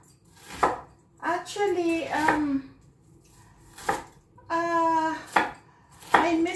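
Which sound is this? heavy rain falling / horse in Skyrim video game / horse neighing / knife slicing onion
knife slicing onion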